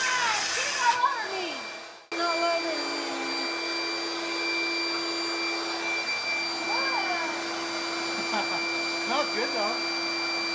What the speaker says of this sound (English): My job was to suck up the sawdust while he cut holes in the beadboard